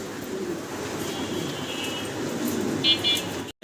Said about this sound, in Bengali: সিঙ্গেল এক পিস গিরিবাজ কবুতর দেখতে ভাই